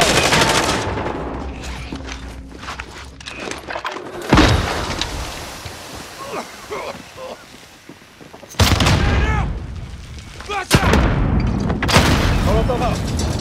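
Hostile gunfire in a combat video game, heard as loud bursts and booming shots in several clusters, with a sharp burst near the start and more heavy volleys later, mixed with game voice callouts.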